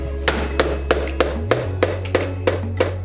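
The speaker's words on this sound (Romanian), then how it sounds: "Ciocană." Hammer strikes at a steady, even pace, about nine sharp hits in three seconds, while fitting ZOOM hydraulic brakes on a Kaabo Mantis electric scooter, with a low steady hum underneath.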